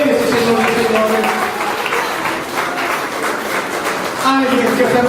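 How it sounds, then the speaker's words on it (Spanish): Church congregation applauding the Lord during an evening sermon, continuous loud clapping filling the room with voices calling out and singing-like tones layered over the applause. "Ponte de pie, iglesia, y dale un aplauso al Señor"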